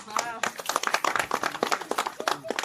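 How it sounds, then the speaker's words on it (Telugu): Sharp hand claps from a small group at a family celebration marking a milestone of 8 lakh, repeated quickly in an uneven burst under overlapping cheerful voices. "చప్పట్లు చప్పట్లు"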